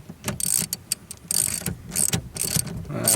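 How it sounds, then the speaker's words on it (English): Ratchet wrench snugging the steering wheel bolt on a Honda Accord during a combo switch repair, with rapid bursts of ratcheting clicks in several runs close up, separated by brief pauses. "I'm going to start off with my ratchet wrench here."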